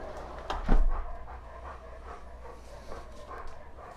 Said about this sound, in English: now we get to hear the panting for a little bit